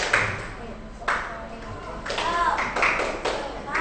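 A seventh-grade class does the tepuk semangat rhythmic clapping cheer, loud bursts of claps mixed with children's voices and a teacher talking over them.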